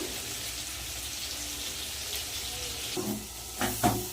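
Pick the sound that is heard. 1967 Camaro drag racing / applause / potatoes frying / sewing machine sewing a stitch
potatoes frying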